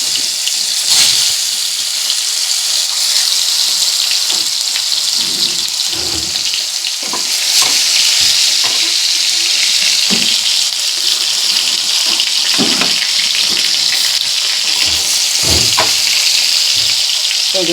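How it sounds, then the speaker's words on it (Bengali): Pieces of pointed gourd (potol) fry in hot oil for Bengali potol posto, making a loud, continuous close-up sizzle that swells and crackles as they are turned, with no voices. "উল্টে পাল্টে পটলগুলোকে ভেজে নিতে হবে।"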